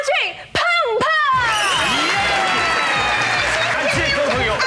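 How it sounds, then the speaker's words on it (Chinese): A studio audience bursts into warm applause and cheers for a male-female comedy duo on a talk-show stage, rising after a couple of brief sharp sounds and a voice at the start, then holding as a full, bright clapping roar. "让我们热烈掌声欢迎两个人。"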